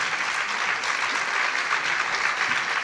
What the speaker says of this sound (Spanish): un aplauso para Rosario